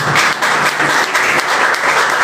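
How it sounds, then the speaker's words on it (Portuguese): A church congregation applauds together, a dense, loud burst of clapping with a brisk, even rhythm over about two seconds, and no other voices stand out. "Pode se sentar em nome de Jesus e aplaudir ao Senhor."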